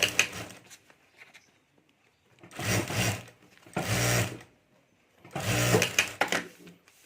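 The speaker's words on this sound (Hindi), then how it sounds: "और अब यहाँ ऊपर हमें सिलाई कर देनी है।" Sewing machine stitching fabric lining over the zip of a handmade party-wear potli bag, running in three distinct bursts of whirring stitching separated by short pauses, close and fairly loud with no talking.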